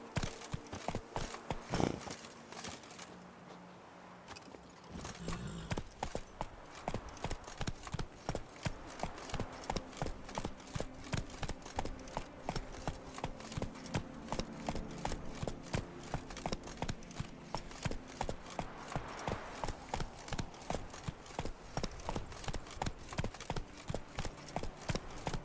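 Hooves of the horse Roach in The Witcher 3 clip-clop in a steady, even walking rhythm for a long stretch, close and moderately loud, after a brief quieter opening.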